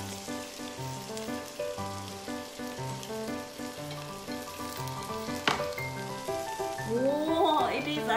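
Okonomiyaki sizzling in a pan over low heat, a soft continuous frying crackle sitting beneath background music, with a voice briefly present.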